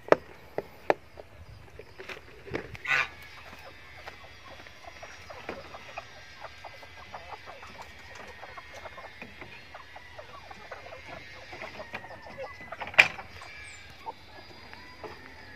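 Backyard chickens cluck softly and intermittently around a freshly filled drinker, with scattered scratching and light clatter in a quiet setting.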